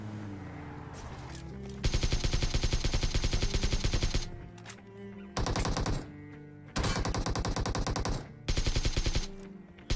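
Automatic gunfire in the PUBG battle royale game: loud, rapid bursts of machine-gun fire lasting a couple of seconds each, separated by short pauses, close and with no talk.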